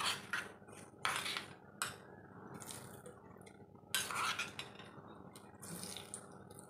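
A spoon clinks and scrapes against a steel pan and plate while mustard-sesame tempering is spooned over rolled khandvi, in a series of close, bright taps separated by short quiet pauses, with no talking.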